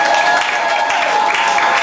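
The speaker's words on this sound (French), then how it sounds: "Applaudissez s'il vous plaît" Wedding guests at a civil ceremony clapping together, a continuous loud patter of many hands from start to finish with faint crowd murmur beneath.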